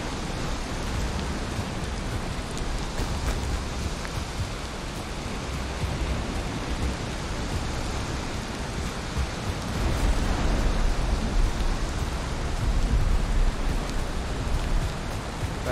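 Heavy, steady rain pours through a thunderstorm in the video game Valheim, a dense unbroken hiss with low rumbling underneath that swells slightly louder toward the end.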